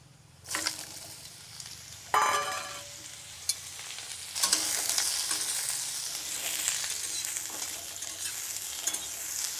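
Water lily stems are stirred as they fry in a pan with mustard and garlic, giving a few scraping spoon strokes and then a strong, steady hissing sizzle close up.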